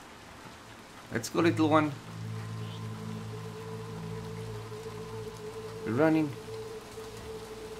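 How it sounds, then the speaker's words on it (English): Steady, faint rain falls continuously in the dark world of the video game Little Nightmares 2, a soft hiss running under brief spoken remarks. "stay safe from the rain"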